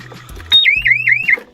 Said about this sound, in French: Une alarme bien cachée et bien stridente permet de dissuader de partir avec le véhicule